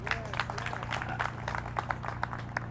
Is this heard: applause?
yes